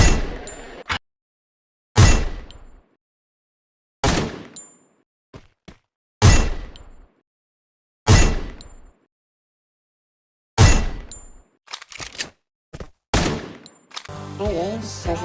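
Desert Eagle pistol shots in a video game fire singly at steady two-second intervals, each a loud sharp crack with a short ringing tail, ending in a quicker cluster of shots and clinks.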